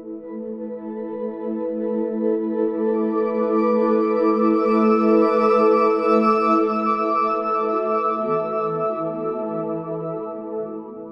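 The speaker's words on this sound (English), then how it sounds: "But inside the granular synthesis engine, it sounds like this." A granular synthesizer from the Trails library for Kontakt Player turns a string sample into a sustained, shimmering texture. It swells gently in the middle and shifts to lower wavering tones toward the end.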